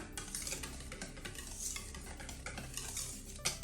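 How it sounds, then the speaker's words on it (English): A whisk beats vanilla into cake batter in a bowl for a pumpkin spice bundt cake, producing a quick, steady swishing and clinking of rapid strokes against the bowl, close and moderately quiet, with no voices. "Just going to whisk this together"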